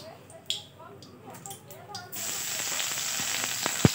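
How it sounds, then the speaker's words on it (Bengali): Soaked soybean chunks hit hot oil in a wok, and from about two seconds in a loud, steady sizzle builds and holds, with a few sharp crackles near the end after some quieter clinks before. "ভিজিয়ে রাখা সয়াবিনগুলো ভেজে নিতে হবে।"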